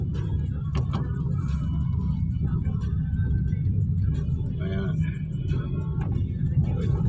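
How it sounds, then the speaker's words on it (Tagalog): Cars idle and creep along in traffic at a stoplight on Molino Boulevard in Bacoor, heard from inside a vehicle as a steady low engine rumble with faint outside traffic sounds. "Traffic po tayo, traffic."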